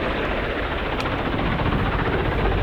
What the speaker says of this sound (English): this is a multi-purpose, multi-role helicopter conceived by a multinational consortium